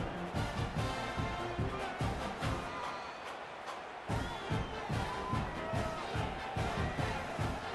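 A stadium crowd in the College Football 26 video game murmurs and roars steadily at moderate distance, a dense continuous wash with rhythmic swells and no clear speech.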